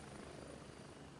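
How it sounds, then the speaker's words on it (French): Helicopter rotor and engine in the Gray Zone video game, a steady loud broadband drone that fills the whole moment without letting up. "j'attends que l'hélicoptère part pour pouvoir augmenter le son"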